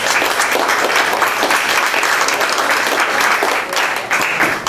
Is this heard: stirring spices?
no